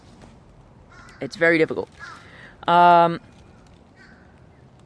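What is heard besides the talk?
crows cawing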